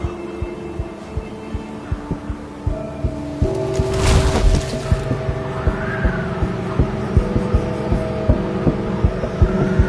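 A vole's heartbeat beneath a foot of snow, a rapid, steady series of soft thumps over a low continuous hum, with a brief louder swell partway through.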